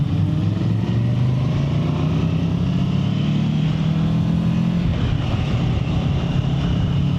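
A 2024 Kawasaki Versys 650 motorcycle being ridden, a steady loud engine drone with rising and falling pitch under strong wind rush, with no talk.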